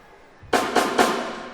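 A percussionist knocks three times in quick succession, sharp and close, like knuckles rapping on a door, with a short ring after each hit in an otherwise quiet room.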